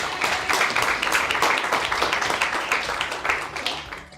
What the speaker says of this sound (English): I think she definitely deserves another round of applause.